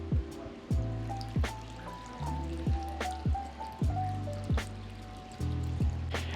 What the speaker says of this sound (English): I also like to put my hose as far at the bottom as possible to minimize splashing.